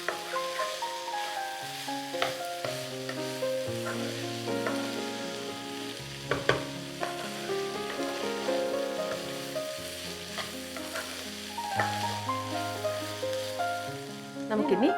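Scrambled egg stir-fried in a pan for mixed fried rice, a steady sizzle broken by frequent utensil scrapes and taps against the pan, with melodic background music running throughout.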